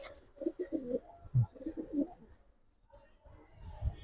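Pigeons coo in soft, repeated throaty phrases close by, a low rolling call that pauses briefly and then resumes among Giribaz-type birds kept for sale.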